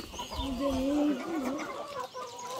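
Chickens on a country ranch cluck in a loud, close, warbling run, with a faint murmur of voices and outdoor noise behind them.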